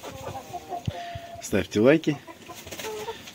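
Chickens in a coop with fresh wood shavings cluck in short bursts close by, a sharper squawking run near the middle, while someone speaks over them.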